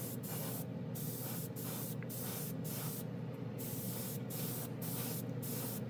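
Airbrush spraying a chrome varnish top coat at about 15 psi, a steady close hiss that runs unbroken throughout with slight pulsing and no voices.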